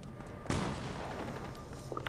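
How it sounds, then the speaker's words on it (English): A sharp burst of Fortnite gunfire rings out, followed by a few more faint shots and some rumbling. The shots sound distant and sit in a noisy background. "I hear gunshots."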